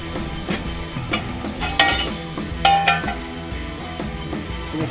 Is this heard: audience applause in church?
no